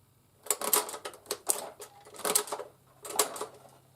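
A Tippmann Boss sewing machine stitching and binding up, heard as irregular bursts of heavy clunking and clacking strokes with pauses between them, close and fairly loud.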